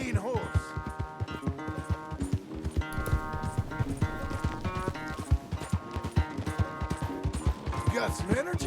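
In a video game corral, a horse's hooves pound out rapid, uneven clip-clops up close, layered over tonal game music, with occasional crashing bumps and a short neigh-like cry.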